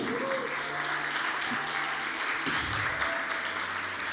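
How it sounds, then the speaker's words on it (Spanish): Congregation in a Spanish-language church service applauding for fathers on Father's Day, a steady wash of clapping throughout with faint voices and some low tones underneath. "démosle un fuerte aplauso a sus papás"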